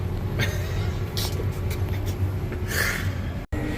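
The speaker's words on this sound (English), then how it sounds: "There goes truck number one" A truck rolls past on a road amid steady traffic rumble, with a brief hiss of passing air near the end and the noise cutting out abruptly just before the finish.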